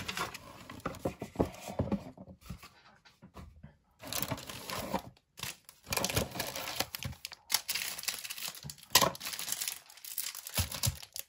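Crinkly plastic wrapping and card packaging from a Pokémon Fusion Strike Elite Trainer Box are handled and pulled out in a close, uneven run of rustles and crackles, with a few brief pauses and no talking.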